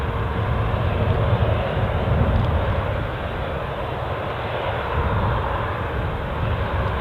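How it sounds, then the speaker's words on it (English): A Cessna 525 Citation business jet roars steadily at Newcastle International airport, a broad, loud rumble of engine noise holding constant with slight swells, no voices. "Our outgoing BizJet, which is on its way to Farnborough, that being a Cessna 525 Citation"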